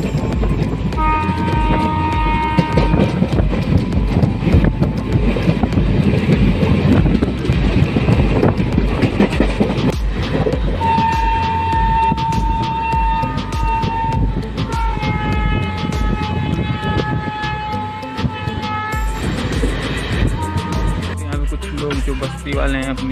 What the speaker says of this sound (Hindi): आज अपनी ट्रेन तो और भी ज़्यादा स्पीड बढ़ा चुकी है